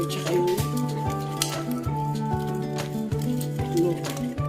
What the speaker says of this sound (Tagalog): Mix lang yan hanggang mahalo yung sugar tsaka yung